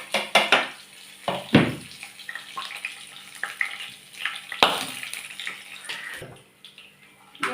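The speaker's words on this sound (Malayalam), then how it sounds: "ഇനി അതെല്ലാം കൂടെ ഒന്ന് മൂത്ത് കടുക് പൊട്ടി കഴിയുമ്പോൾ" Mustard seeds and dried red chilli fry in hot oil, giving irregular crackles and sharp pops over a steady hiss, close and fairly loud with quieter gaps between bursts.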